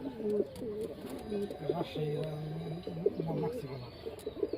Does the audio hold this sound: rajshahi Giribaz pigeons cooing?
yes